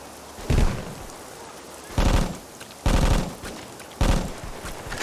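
An M60 machine gun fires short bursts in the Vietnam War video game Vietcong, four loud, rapid rattling volleys separated by brief pauses, near and heavy.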